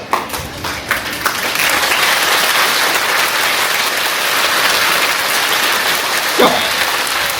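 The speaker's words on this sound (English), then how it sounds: "now I not asked you to clap also, you started clapping." A classroom of students clapping their hands together, a dense sustained burst of applause that starts with a few scattered claps and then fills the room for several seconds, loud and close.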